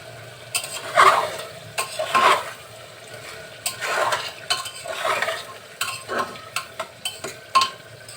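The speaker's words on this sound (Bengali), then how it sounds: "আলুতে একটু নাড়াচাড়া করে নিলাম" Chicken curry with potatoes being stirred in a pressure cooker, a spoon scraping and turning the pieces in short bursts of clattering and soft sizzle, with no one speaking.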